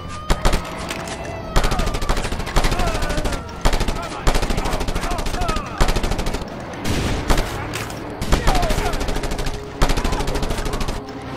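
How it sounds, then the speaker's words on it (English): A mounted gun in the video game Just Cause 2 fires in long, rapid automatic bursts separated by short pauses, loud and dense throughout with faint game sounds between bursts. "that's just the mounted gun rather than an actual weapon"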